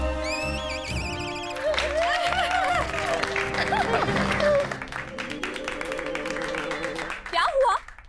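A crowd claps in sustained applause in a royal court scene with Tenali Rama and the Maharaj, blended with a musical sting and voices.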